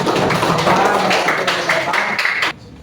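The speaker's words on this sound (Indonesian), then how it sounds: "tepuk tangan untuk kelompok 2 ya" Pupils applauding a group in a fourth-grade Islamic religious education classroom, brisk clapping close by that ends abruptly, leaving a quiet room.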